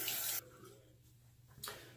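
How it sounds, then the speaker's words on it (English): A Merkur Progress safety razor is rinsed under a running tap, with two short gushes of splashing water, one at the start and another near the end, and a quiet pause between them. "Okay, rinse the razor time."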